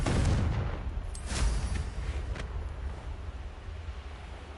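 Confringo blasting spell cast in the Hogwarts Legacy video game, a loud explosive burst up front followed by a second sharper blast and a rumbling low tail, with no talk over it.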